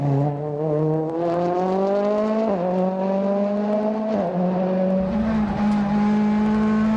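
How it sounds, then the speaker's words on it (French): Ford Fiesta WRC rally car at the 2013 Rallye Lyon-Charbonnière, its engine droning steadily with rising pitch through the gears, two quick shifts breaking the whine, and a loud close exhaust note throughout with no talk. "Julien Morin à l'image justement sur sa Ford Fiesta."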